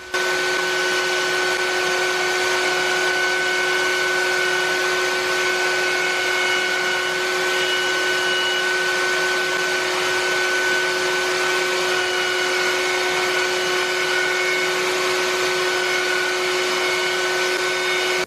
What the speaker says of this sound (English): At the router table, the outer edges of the battens were given their rounded shape.